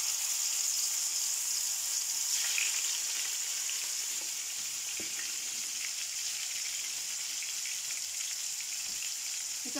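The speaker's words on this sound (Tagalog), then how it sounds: "Ngayon, magluluto ako ng aking salmon para i-partner dito." Salmon frying in olive oil in a pan gives a steady, bright sizzle that holds fairly even across the whole stretch, with a few faint pops and crackles and no voices.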